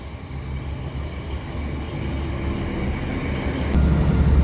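A steady low rumble of an old Northern passenger train running near Saxelby, England, with a constant drone and faint rattling that swells slightly louder toward the end.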